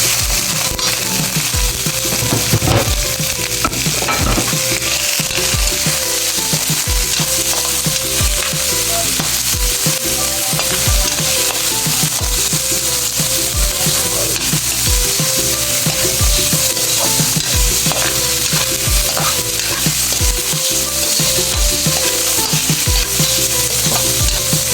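Onion and garlic sautéing in a pan for chop suey, with loud continuous sizzling and frequent crackling pops plus scraping stir strokes throughout, no talk.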